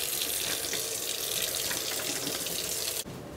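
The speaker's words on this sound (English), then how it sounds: "just wash your filthy hands, okay?" Water runs steadily from a kitchen tap as hands are washed between cooking steps, a loud, even splashing hiss that cuts off abruptly near the end.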